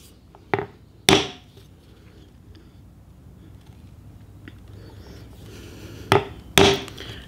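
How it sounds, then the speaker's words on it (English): Square chisel struck with a mallet while tracing lines in wood for hand-carved stars: four sharp, close knocks in two pairs, separated by a quiet stretch of faint scraping. "we're going to start by using this square chisel, and we're just going to trace out our lines with that"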